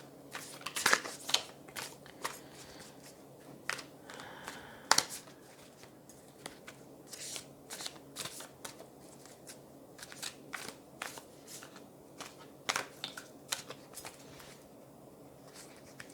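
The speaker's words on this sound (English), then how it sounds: "I genuinely have no idea how I shuffled these cards." Tarot cards being shuffled and riffled in quick bursts of crisp snapping and rustling, close up, with pauses between bursts and no talking.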